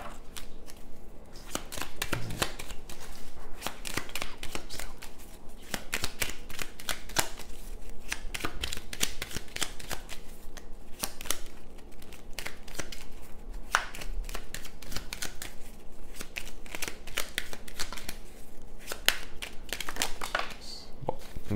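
A deck of fortune-telling cards is shuffled and handled continuously at close range, giving dense rapid riffling and flicking clicks with no talking.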